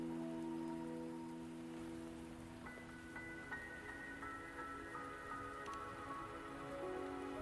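Soft rain falls steadily in the video game Wuthering Waves, a faint hiss of drops laid under sustained musical tones that shift partway through, with no talk.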